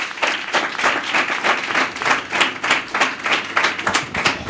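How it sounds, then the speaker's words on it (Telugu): Church congregation clapping together during an Easter Sunday service, a steady run of rhythmic hand claps close by and fairly loud, with no talk over it. "Just give claps to the lord."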